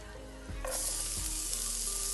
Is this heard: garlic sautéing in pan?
yes